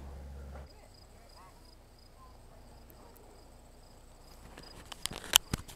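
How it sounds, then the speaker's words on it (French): Insects chirp near Niagara, Ontario, a faint steady high buzzing trill held under the outdoor quiet, with soft rustles and a few sharp close clicks toward the end. "Si vous écoutez bien, vous allez entendre les copines des cigales françaises"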